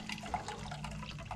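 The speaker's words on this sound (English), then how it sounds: "if we take the first one off and we squeeze the water out, I'll get as much as I can in that glass" Water is wrung from a sponge into a glass, giving a steady, soft trickle and splatter that runs close by and fairly quiet throughout.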